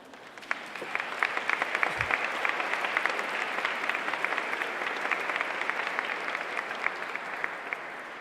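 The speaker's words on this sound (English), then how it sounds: "Judges, can you please stand for a round of applause, please?" An audience at a nonprofit awards event applauds the judges, sustained dense clapping from a crowd throughout, with no speech.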